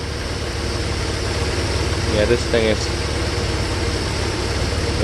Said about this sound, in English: But when the engine is even, it's more or less okay.